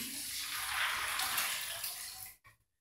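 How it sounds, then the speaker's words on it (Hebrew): Water pours steadily into a bowl of almonds fitted with a strainer, a close, rushing splash that runs continuously and then cuts off sharply with a couple of last drips. "על כל כוס שקדים אני מוסיף 3 כוסות מים"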